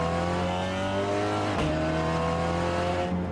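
A Peugeot 308 RCZ racing cup car lapping Tsukuba circuit, heard as a loud onboard engine note holding high revs, dipping sharply under braking midway, then climbing again with some tire noise.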